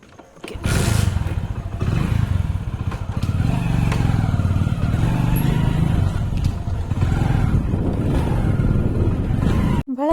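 A motorcycle carries two riders on an early morning ride, its engine a steady, close, continuous drone that runs almost unbroken from start to finish with no voices.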